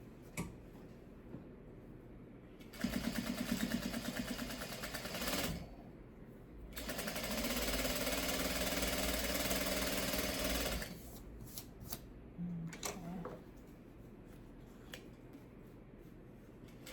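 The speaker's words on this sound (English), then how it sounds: "we can sew these two together" A sewing machine stitches two pieces of pre-cut quilt fabric together in two bursts of rapid, even whirring, a shorter run then a longer one, separated by quiet pauses with faint handling clicks.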